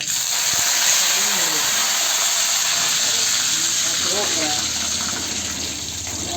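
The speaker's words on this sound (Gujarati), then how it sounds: "રાઈ તડતડ થાય છે" A loud, steady hissing sizzle of mustard seeds spluttering in hot oil, continuous throughout with faint crackles underneath.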